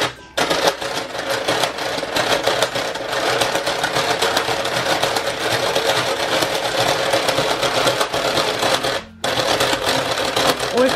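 A Cool Maker toy bracelet maker spins to braid a thin bracelet, giving a rapid, continuous mechanical whirring and clattering. The whir runs steadily for about nine seconds, stops briefly, then resumes.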